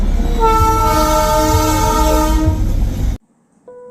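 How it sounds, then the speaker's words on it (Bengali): Darjeeling toy train near Ghum station sounds a loud, sustained horn for about three seconds, close by and alone, before it cuts off abruptly into quiet. "ঘুম স্টেশনে পৌঁছানোর কিছু আগেই দেখা মিলল বিখ্যাত ট্রয় ট্রেনের"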